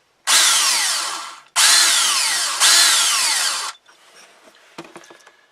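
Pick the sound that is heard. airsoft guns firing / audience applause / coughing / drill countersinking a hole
drill countersinking a hole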